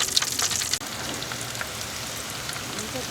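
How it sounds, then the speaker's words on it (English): Zucchini, squash and onion sauté in melted butter over hot coals on a Big Green Egg, giving a continuous dense crackling sizzle close by, with no talking. "I'm just going to saute it over the coals in this melted butter."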